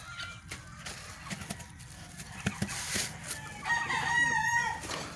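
Chickens cluck around a brooding hen in a backyard coop, steady nearby clucking with scattered calls and a rooster-like crow rising toward the end over a busy farmyard background.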